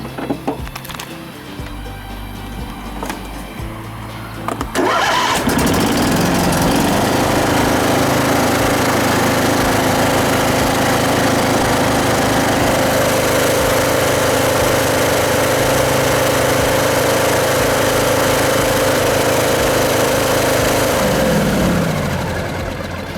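A John Deere lawn mower with a troublesome fuel pump cranks briefly, then catches and settles into a steady, loud, even engine drone that holds for well over fifteen seconds before easing off.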